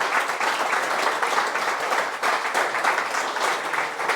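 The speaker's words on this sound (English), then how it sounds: "Can we get a round of applause?" A crowd gives sustained, dense applause for performers at a senior championship final, loud and steady across the whole stretch with no clear breaks.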